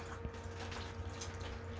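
Water running steadily onto trays of pea shoot microgreens, one cup each, a soft continuous patter and drip under a low hum, with no voices.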